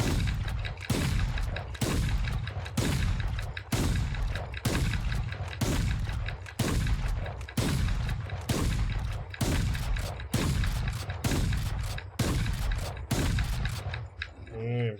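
A shotgun in Valorant fires about a dozen times in steady rhythm, each loud close blast followed by a short reload, the cycle repeating evenly.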